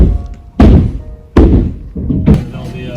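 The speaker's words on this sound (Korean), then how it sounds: "오늘은 하루 종일 이렇게 지붕 두들기는 소리에 익숙해져야 될 것 같습니다" Three heavy, close thuds of hammering on a house roof during spring repairs, spaced unevenly over a few seconds, each followed by a dull ringing decay.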